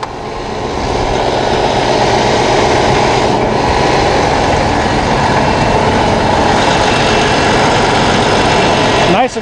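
A Cummins ISX diesel engine idles in the rear of an MCI J4500 56-passenger coach, a loud, steady, close-up drone with a constant whine that holds evenly throughout.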